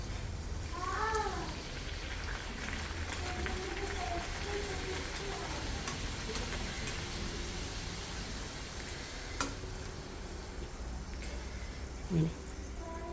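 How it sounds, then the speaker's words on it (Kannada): Poori frying in hot oil gives a steady, soft hissing sizzle throughout, with faint voices and small clicks now and then. "ಈಗ ಈ ಪೂರಿ ಎಣ್ಣೆಗೆ ಹಾಕ್ಬಿಡೋಣ"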